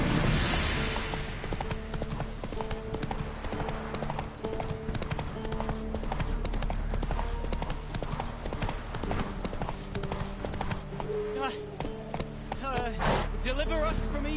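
In The Witcher 3 on PS5, the horse Roach gallops with quick, rhythmic hoofbeats that sound close and continuous, along with game music and a short whinny near the end.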